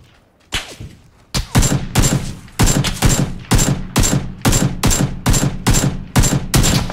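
Rapid bursts of automatic gunfire in PUBG, a loud near volley of repeated shots firing in quick rhythmic strings after a brief quiet start, with no talk.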